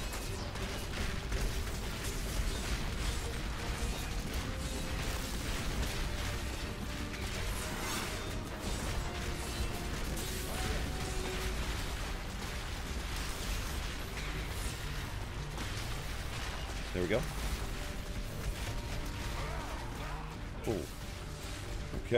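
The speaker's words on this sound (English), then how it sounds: "Keep these bombs going." Repeated bomb blasts from a Crusader in Diablo 3 thud and crack through a dense, busy fight, with bursts landing every few seconds and sharper pops standing out near the end.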